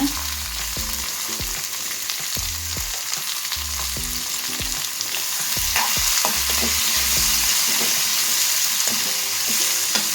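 Onion, tomato and curry leaves sizzle and fry in a pan for a horse gram gravy, with repeated scraping stirs in an uneven rhythm. The sizzle grows slightly louder toward the end, close and steady, with no voices.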